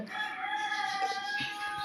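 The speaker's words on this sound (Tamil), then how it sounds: "என்னடா இது கோழி கூவுதுன்னு நினைக்காதீங்க" A rooster crows inside an apartment, a single drawn-out, loud, strained call lasting nearly two seconds with no talk over it.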